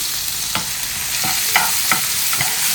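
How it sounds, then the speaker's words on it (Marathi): A chili, garlic and coriander thecha goes into a hot pan and fries with a steady sizzle, broken by several distinct scraping stirs of a spoon, close and fairly loud, with no voices. "आता ही आपण जी मिरची लसूण आणि कोथिंबीरचा ठेचा बनवला आहे तो टाकूया याच्यामध्ये"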